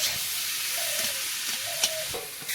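Potatoes and tomato frying together in a pan give off a loud, steady, hissing sizzle, with faint whistling tones rising over it now and then and a few soft stirring knocks.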